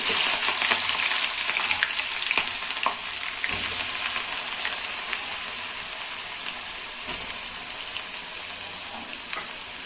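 Curry leaves, three green chilies and finely chopped onions frying in oil for a Telangana village-style egg curry, a steady close crackling sizzle with occasional sharper pops throughout.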